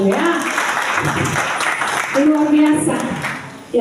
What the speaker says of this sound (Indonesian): Tepuk tangan dulu untuk pengantin baru